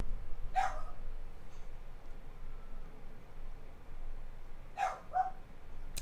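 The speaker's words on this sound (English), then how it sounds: "Excuse my dog barking in the background" A dog barks in the background, a few brief, faint yips spaced several seconds apart over a low steady room noise.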